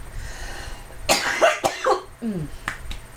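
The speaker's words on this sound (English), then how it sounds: "I have to cough." A few sharp smoker's coughs burst out close to the mic, followed by a short throat-clearing sound and a couple of faint clicks.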